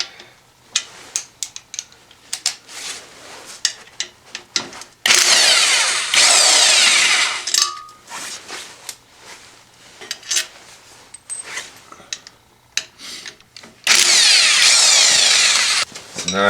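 Impact gun removing bolts from the water pump cover of a Polaris Trail Boss 350L/400L ATV, two loud sustained bursts of a few seconds each, close up, separated by quieter clinks and handling noise.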